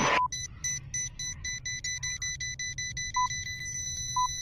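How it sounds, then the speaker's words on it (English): Repeated electronic beeps in a VRChat session, a steady chain of short, evenly spaced high tones pulsing about four times per second, fairly quiet and alone, with a couple of lower blips mixed in. "Who's beeping?"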